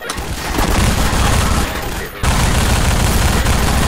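Gunfire in the Half-Life 2 video game while fighting Combine soldiers with antlions around, a loud, dense, continuous burst of shots that breaks off for an instant and then resumes.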